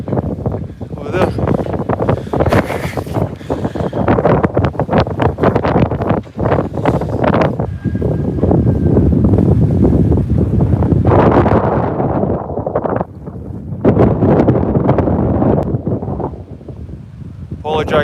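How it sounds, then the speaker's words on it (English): Strong wind buffets the microphone in heavy, continuous roaring gusts, with brief lulls, and occasional voices nearly buried beneath it, outdoors on a walk around Whithorn. "It is a windy day."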